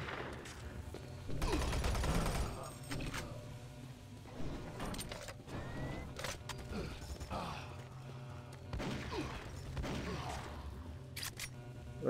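Assault rifle bursts in the Doom 3 VR video game, fairly quiet, with intermittent volleys of shots and mechanical clanks scattered across the clip amid game ambience.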